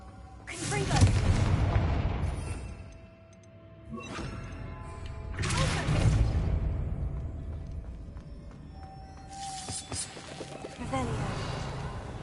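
Three heavy blasting-spell explosions in Hogwarts Legacy, each a loud booming burst with a decaying rumble, spaced a few seconds apart against quiet game ambience.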